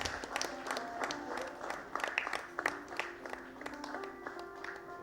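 An audience at a nursing awards ceremony applauds the awardees, scattered clapping set back under sustained musical tones playing through a hall sound system.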